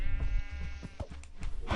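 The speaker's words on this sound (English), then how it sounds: "I feel bad killing cows in Minecraft, cause like sometimes when you hit them, like instead of moo, it sounds like they're saying no" Cow mooing when struck in the Minecraft video game, a short run of close, wavering bleat-like calls with a few thuds of hits, loud against a quiet background and no speech.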